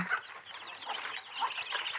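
Seventeen-day-old desi chicks on a native-chicken farm peep and cheep continuously, a dense chorus of small high chirps close by.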